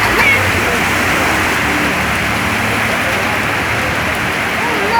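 Steady rain falls outdoors at La Concordia, a dense continuous hiss of drops on surfaces that holds loud and even for the whole stretch, with no clear voices standing out.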